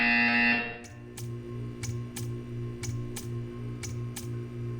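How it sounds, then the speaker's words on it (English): In the video game Portal 2, a harsh buzzer sounds briefly and then cuts off, followed by a steady train of sharp ticking clicks over a low, humming ambient drone. "You will hear a buzzer."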